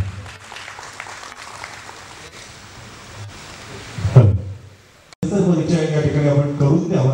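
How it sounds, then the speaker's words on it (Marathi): An audience at the Samyak award ceremony marking Balasaheb Ambedkar's birthday claps for honoree Gopaldada Gangavane: a soft, rain-like patter of scattered applause for about four seconds. After a brief pause, someone speaks into a microphone. "आदरणीय गोपाळदादा गंगावणे यांच्यासाठी जोरदार टाळ्या झाल्या पाहिजे"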